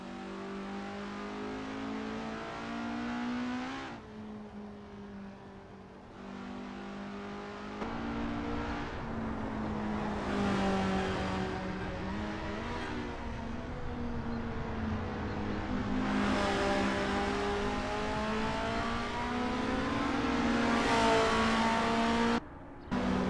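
Race car engine in a sim racing game on a practice out lap at Zandvoort, a steady close whine that rises and falls through gear changes, with brief dips off throttle and no voices.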